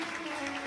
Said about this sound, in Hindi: जोरदार ताली बजाकर साधु।